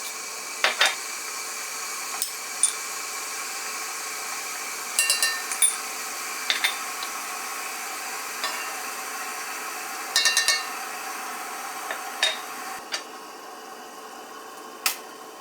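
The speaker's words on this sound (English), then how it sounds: "Then, add all the ingredients into a tall measuring jar." Ingredients dropped into a tall measuring jar for keto hot chocolate give light glassy clinks and taps, scattered one by one and in short clusters, close and fairly quiet.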